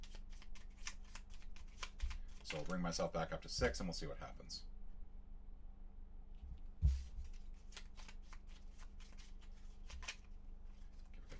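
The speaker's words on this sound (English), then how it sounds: "Give a good shuffle here." A deck of cards for a Gloomhaven solo board game session is shuffled up close in a burst of rapid riffling, with someone talking over and after it.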